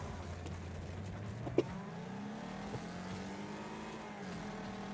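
A racing car engine from an Xbox Series X racing game hums at a low, fairly steady pitch that rises slightly. It sounds moderately quiet and distant, with a few faint clicks and no talking.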